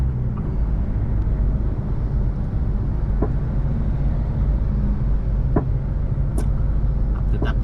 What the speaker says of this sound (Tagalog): Car carrier.